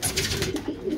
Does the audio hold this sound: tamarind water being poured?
no